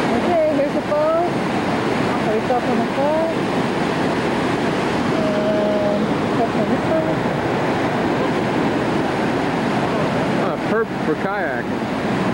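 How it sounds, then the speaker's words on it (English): Huka Falls in New Zealand sends a constant, loud roar of rushing water, a dense steady wash that fills the whole stretch while people speak faintly over it now and then. "Luka Wooka Mooka Falls."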